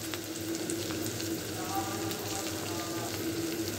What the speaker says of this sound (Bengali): হালকা একটু নাড়াচাড়া করেই আমি এখানে পেঁয়াজ কুচি দিয়ে দিচ্ছি। তারপর আমি দিয়ে দিব রসুন কুচি।